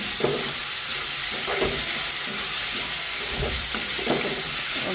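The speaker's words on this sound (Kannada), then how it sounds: "ಟಮಾಟೆ ಮ್ಯಾಗ ಇನ್ನೊಂದು ಚೂರು ಉಪ್ಪು ಹಾಕೊಂಬಿಸೋದು ಅದು ಟಮಾಟಿನ ರೀ ಅದಕ್ಕೆ ಇನ್ನೊಂದು ಸ್ವಲ್ಪ ಉಪ್ಪು ಉಪ್ಪು ಹಾಕಿ ಮತ್ತೊಂದು ಸರಿ ಫ್ರೈ ಮಾಡ್ಕೊತೀನಿ" Tomatoes frying with salt in a home kitchen pan, a steady sizzle and hiss running throughout with a few stirring scrapes and soft clatters rising above it at intervals.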